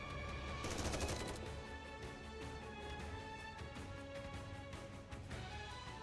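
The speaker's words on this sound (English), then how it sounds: "Mori fires a barrage of bullets at Gluttony's battered body" Rapid gunfire from a video game, a barrage of bullets aimed at a battered tentacled monster, with a dense burst of shots up front followed by steady rattling fire over loud game noise.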